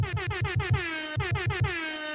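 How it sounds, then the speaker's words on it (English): An air horn sound effect blares in rapid repeated bursts, two quick volleys of staccato blasts with a sliding, descending tone, loud and up front. "I was still dropping air horns"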